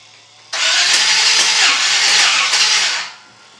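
A 1951 Chevy truck engine cranks and fires abruptly, running loud and close for about two and a half seconds with uneven sputtering pulses before cutting out and fading back to quiet.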